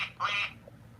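A voice imitates duck quacking: a short, nasal quack bursts out briefly and loudly over a faint background hum, then fades.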